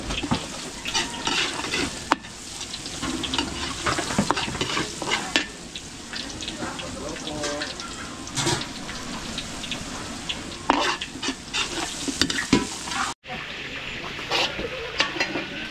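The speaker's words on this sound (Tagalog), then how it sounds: "gigisa ko muna yung bawang sibuyas natin" Garlic and onion sauté in a hot pan for ground meat, sizzling continuously with frequent stirring and scraping clatter, some louder utensil knocks breaking through, and a brief voice now and then.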